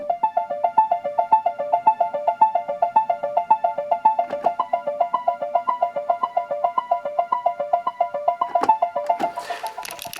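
Steady sixteenth-note arpeggio from a keyboard synthesizer's arpeggiator ticks along in an even, bouncy two-note pattern, loud and upfront without voices, with a brief noisy swell near the end.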